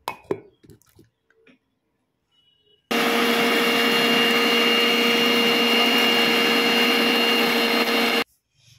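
Electric mixer grinder whirring steadily as it grinds spices with a little water into a paste for a vegetarian Sundarbans-style dish; a loud, even motor drone starts abruptly after a few faint clicks and runs unbroken for about five seconds, then cuts off.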